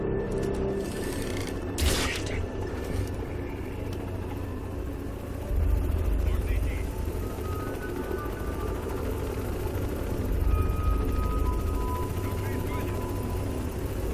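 A helicopter in the video game Crysis 3 gives a steady rotor drone with mechanical clatter and occasional bursts, heard throughout under other game sounds.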